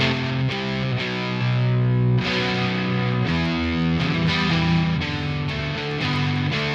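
Heavily distorted electric guitar through an Unholy Distortion plugin plays sustained chords with a few changes, loud and thick, with no voices.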